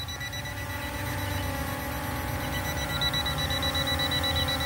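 A sensor on an LF662 drone emits a continuous rapid electronic beeping that repeats steadily over a constant whirring hum, sounding close and fairly loud throughout.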